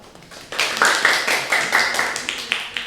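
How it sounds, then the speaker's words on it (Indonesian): Classroom clapping during a Japanese-language microteaching lesson, a short burst of hand claps starting about half a second in and continuing as a steady, fairly close patter of several people. "Tepuk tangan dong."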